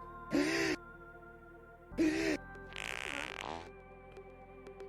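Cartoonish fart noises in Deep Rock Galactic: two short, pitched, buzzy blasts separated by a pause, then a breathy, gasp-like rush, all fairly quiet over a low steady game hum.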